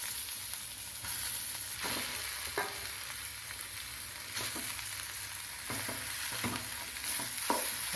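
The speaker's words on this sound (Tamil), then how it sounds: "பரங்கிக்காயை சேர்த்து அதில் வதக்கணும்." Yellow pumpkin sautéing in a pan with cashews, a soft steady sizzle broken by several sharp spatula scrapes and taps against the pan.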